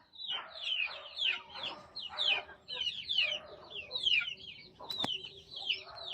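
Several heritage free-range chickens cluck in a repeating rhythmic series of squawky calls, close and fairly clear, with a brief sharp knock near the end.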